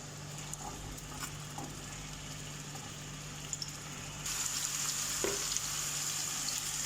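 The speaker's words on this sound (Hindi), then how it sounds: "अब ये मैरिनेट किया हुआ चिकन इसमें ऐड कर देंगे।" Marinated chicken for chicken bhuna sizzles and fries in hot oil in a pan, a steady crackling hiss with a low hum beneath, growing slightly louder partway through, with no talking.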